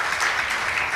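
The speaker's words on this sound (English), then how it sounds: "A round of applause for him, please." Brief burst of audience applause at an actuarial conference session, a steady wash of clapping lasting about a second.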